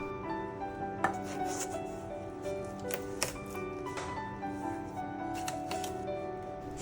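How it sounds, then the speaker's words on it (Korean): A knife slicing through a ripe watermelon, giving quiet, crisp cutting taps and cracks at irregular intervals over soft background hum, close by and fairly faint. "수박의 끝부분을 잘라내고 담을 용기의 깊이에 맞게 자릅니다"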